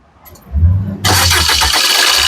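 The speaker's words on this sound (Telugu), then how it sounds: "సింగిల్ సెల్ఫ్ లో కార్ స్టార్ట్ అవుతుంది" A 2016 Maruti Suzuki Swift Dzire LDi diesel engine cranks briefly, then catches and settles into a loud, steady run, close by.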